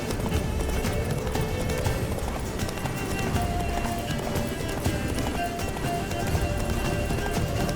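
Horse galloping in the video game The Witcher 3: Wild Hunt, Blood and Wine expansion, a continuous fast clip-clop of hooves with tack jingling over steady game ambience, running without a break throughout.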